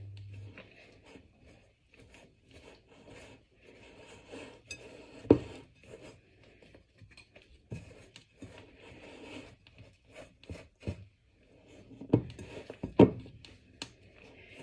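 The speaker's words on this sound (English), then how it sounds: "mix to break up the yolks." Eggs are whisked in a bowl to break up the yolks, giving soft, uneven scraping and tapping with a few louder clinks against the bowl, quiet and close with pauses between strokes.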